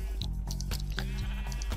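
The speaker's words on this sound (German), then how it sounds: "Zuerst schere ich die Schafe mal." Sheep in the video game Minecraft bleat several times in quick succession: loud, close, nasal cries with no talking over them.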